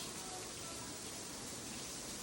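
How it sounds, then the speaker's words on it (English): Heavy rain pours down thickly in Portland, Oregon in January, a dense, loud, unbroken hiss of falling water with no break. "Portland rain. I have never seen it come down so freaking thick."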